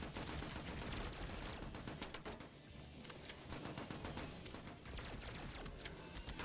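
Sustained chain gun fire in a zombie defence-mode shooter game, a dense continuous rattle of rapid shots running loud and steady throughout with slight dips in intensity.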